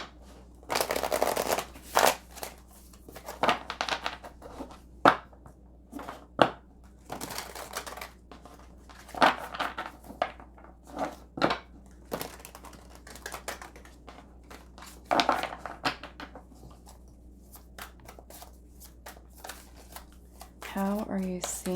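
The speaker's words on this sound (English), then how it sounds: "Let's give these a quick shuffle." Tarot cards shuffled in quick riffling bursts and soft slaps, close and intermittent across the stretch, with a voice talking over parts of it.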